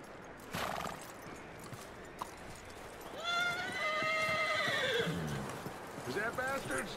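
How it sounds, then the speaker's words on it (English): A horse in the Red Dead Redemption 2 video game gives a loud, drawn-out whinny in the middle, with hooves clip-clopping around it and a brief snort near the end, over game voices talking. "That looks like a decent horse. You should keep him."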